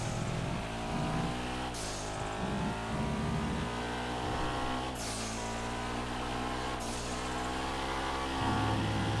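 A Sigma 3 sports car races in GTA FiveM, its engine droning loud and steady at high revs, with several sharp gear shifts that drop the pitch before it climbs again.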